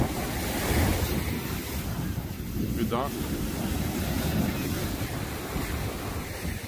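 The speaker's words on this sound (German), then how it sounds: "Ja, aber die Wellen sind auch ziemlich hart." Rough ocean waves breaking on a beach with fairly hard surf, a constant roar pushed along by gusting wind that buffets the microphone, while a voice briefly speaks partway through.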